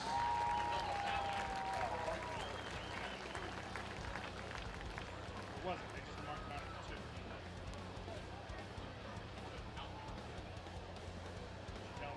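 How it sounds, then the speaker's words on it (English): Stadium crowd at a high school football game applauding steadily for the 2024 Colerain High School Athletic Hall of Fame class, a broad, sustained wash of clapping and cheering throughout with a brief tone early on. "if we could just have a big round of applause for all of the 2024 Colerain High School's Athletic Hall of Fame class"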